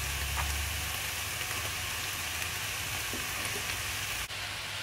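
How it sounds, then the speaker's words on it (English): Mushrooms and bacon frying in a pan give a steady, close sizzle and crackle throughout, with a brief dip near the end and no talking. "Fry it off for a minute and then we're going to add your mushrooms"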